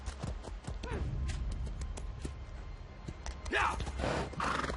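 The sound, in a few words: horse riding and neighing in a video game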